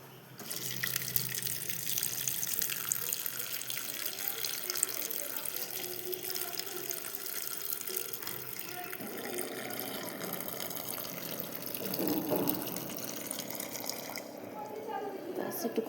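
Water runs from a kitchen tap while a glass is filled, a close, steady splashing flow that shifts in pitch as the water level rises, with a person talking over it.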